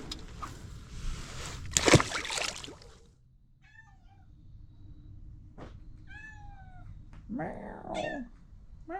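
A cat on a bass-fishing boat gives several short, faint meows in a row after a burst of rustling noise.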